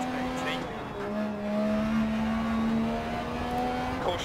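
An MG rally car in the Dirt Rally racing game, its engine holding a steady droning note that climbs and settles as it drives, continuous and fairly loud throughout.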